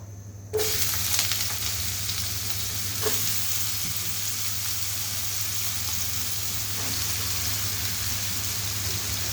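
Chopped bottle gourd sizzles and fries steadily in a hot pan after a sudden start, with occasional stirring scrapes and a low hum underneath.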